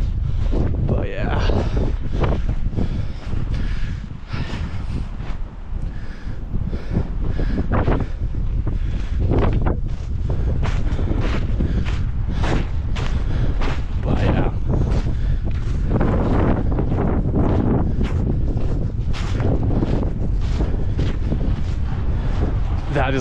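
Strong wind on a cold, blustery outdoor day buffets the microphone with loud, continuous roaring gusts and rumbling bursts throughout, fully dominating the scene.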